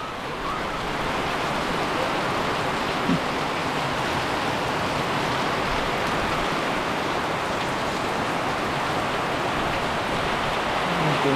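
Steady typhoon downpour fills the air with a thick, constant patter and hiss, loud and close, with no speech and only a faint knock near the middle.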